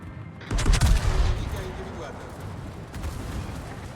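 A heavy salvo of naval cannon fire in World of Warships booms out with a loud, rumbling blast, then a long roar trails off under steady background noise.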